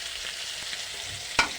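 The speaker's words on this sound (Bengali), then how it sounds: "প্রথমে মাছ রেখে মাছ ভাজা করছি" Fish sizzles and fries in a pan of hot oil, a soft, steady crackle at low level with a brief sharper spit near the end.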